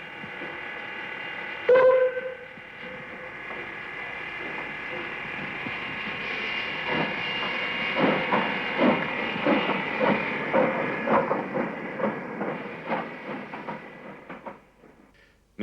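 A steam locomotive runs on a heritage railway near Tenterden and Rolvenden. Steady steam hiss comes first with a brief sharp burst, then a rhythmic chuffing beat builds and fades as the engine moves off. No speech.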